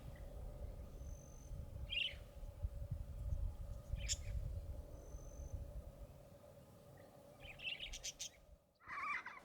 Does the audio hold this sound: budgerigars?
yes